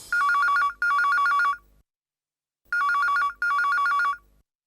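A telephone bell rings in two double bursts of rapid trilling, loud and close, with a short silence between the pairs.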